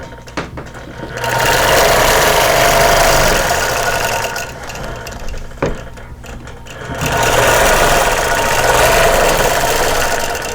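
Sewing machine stitching in the ditch on an embroidered quilt, running in two loud, steady rhythmic bursts of rapid needle clatter separated by a quieter pause.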